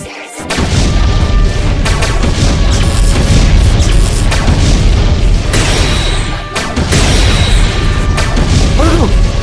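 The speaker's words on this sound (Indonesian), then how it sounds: "Ledakan apa tuh guys?" A loud, continuous stretch of booming blasts and crashing rumble, dense and chaotic, explosions in Minecraft with little pause between them.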